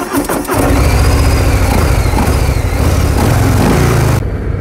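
A 2020 Harley-Davidson Fat Boy 114 with catalytic converters and twin big mufflers cranks and fires up, catching into a loud, deep, lumpy idle that rumbles steadily before dropping off abruptly at the end.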